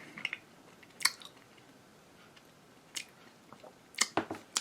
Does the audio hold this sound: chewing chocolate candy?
yes